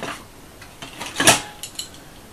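A Trangia camping frying pan, roughly 35 years old, handled with a few light metallic clinks and one sharper clatter in the middle, close up and without talk.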